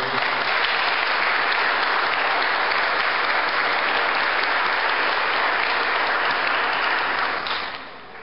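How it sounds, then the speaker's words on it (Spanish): A church congregation gives a strong, sustained round of applause, dense and even throughout before tapering off at the very end. "¿Cuánto le pueden dar un aplauso fuerte al Señor?"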